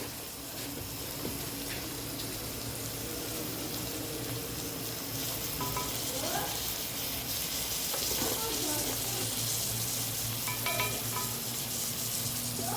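Beef curry with masala powder and onions being stirred in a pan, a steady sizzle and frying hiss running throughout with scraping strokes of the spoon and a faint background hum.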